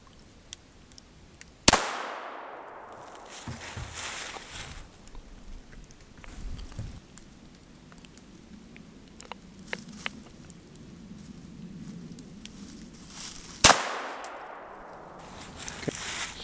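Two sharp gunshots at an outdoor shooting range, one near the start and one near the end, each a loud crack with a decaying tail, separated by quiet rustling and shuffling.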